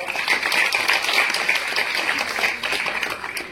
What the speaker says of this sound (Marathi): एका जोरदार टाळ्यांचा कडकडाट